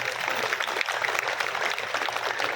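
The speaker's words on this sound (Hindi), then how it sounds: "एक बार सारा चोमू का लोग आपका चोमू के लिए ताली बजाओ भाई।" Crowd applause at a Hindi comedy poetry gathering in Chomu, Jaipur, a dense sustained clapping from many hands that fills the whole stretch at steady loudness, with no pauses.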